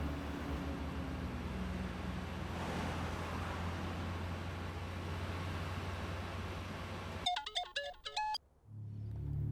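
A short electronic ringtone chimes in a rapid melodic pattern for about a second, following a steady roar of traffic-like background noise.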